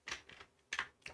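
Fingers type on a computer keyboard, a quiet, close series of light key clicks in two short bursts with a brief pause between them, heard alone.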